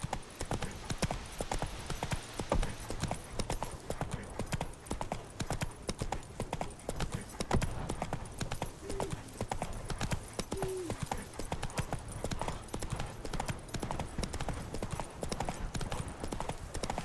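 A horse's hooves clip-clop steadily through the whole stretch in The Witcher 3, a continuous rhythmic trot or gallop with a faint whinny or two and occasional brief speech.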